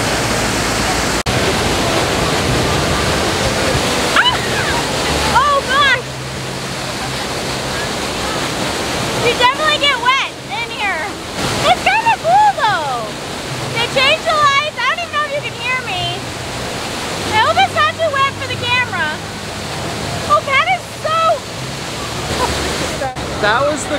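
Water from a fountain show in Lima, Peru rushes in a continuous broad roar, loud and close, while people talk and exclaim over it.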